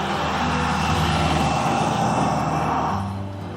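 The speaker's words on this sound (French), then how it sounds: "Oh ouais, encore un tracteur." A tractor passes near a vegetable garden where chard grows. Its steady engine drone fills the whole stretch without a break and fades slightly at the end, with no voices over it.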